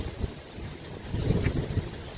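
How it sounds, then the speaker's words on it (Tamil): Steady wind gusting across an open temple tank beside a Sastha temple, a low broadband rush that swells louder in the second half, with no voices. "காற்றோட சவுண்டு பாருங்கள் எப்படி அடிக்குதுன்னு"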